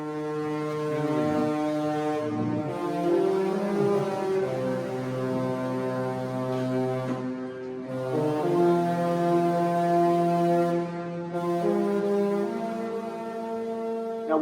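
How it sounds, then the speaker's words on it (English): A Princess cruise ship's deep horn sounds loud and sustained, its rich harmonic blast holding steady with a brief break partway through before resuming, heard on a Caribbean cruise. "Have you heard the love boat horn?"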